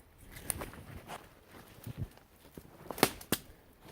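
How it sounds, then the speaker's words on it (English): Footsteps crunch over dirt and forest debris along a woodland trail, a handful of soft, irregular steps heard faintly at close range. "Hear that? Crunch, crunch, crunch."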